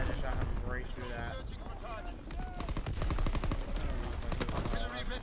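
Rapid bursts of PPSH submachine gunfire crackle in a video game amid other in-game effects, with a voice talking over the shooting.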